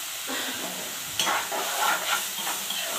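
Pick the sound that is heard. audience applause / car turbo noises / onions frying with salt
onions frying with salt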